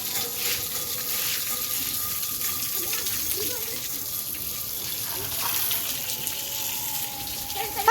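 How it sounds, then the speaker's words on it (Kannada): Water runs steadily from a tap in a house, a constant near splashing flow that lasts throughout at an even level. "ಸ್ವಲ್ಪ ನೀರು ಬಿಡ್ತಿರತ್ತೆ"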